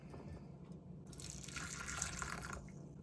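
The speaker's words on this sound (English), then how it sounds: "we're gonna strain the cabbage water with the strainer into one of these containers" Cabbage water pours through a strainer into a container, a steady close splashing stream that starts suddenly and runs about a second and a half before thinning to a trickle.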